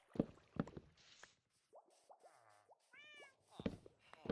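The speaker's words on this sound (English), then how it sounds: "I mean, I found another cat." A cat meows in Minecraft, several short rising mews at low volume, mixed with splashing and plopping game sounds and a few louder clicks and thumps.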